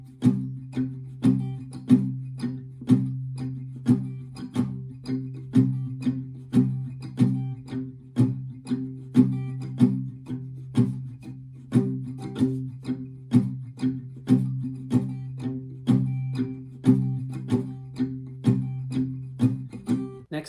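Palm-muted acoustic guitar strumming the verse chords of a song, a steady, muffled rhythmic chug of short damped strokes repeating evenly throughout, close and alone with no voices.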